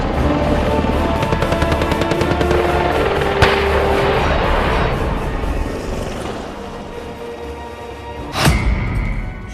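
An Apache gunship helicopter thrums with loud rotor beats under rapid rocket and gunfire bursts, ending in a sharp blast near the close.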